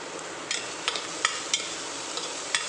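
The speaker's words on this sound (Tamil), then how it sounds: "கடுகு பொரிஞ்சனே குடமிளகாய் போட்டு நல்லா வதக்கிடணும்" Capsicum sautés in a pan with popped mustard seeds, a quiet, steady sizzle broken by several soft scrapes and stirs of a spoon at irregular intervals, with no talk.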